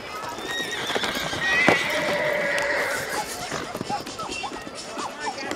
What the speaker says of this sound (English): Horse digging in and working well for her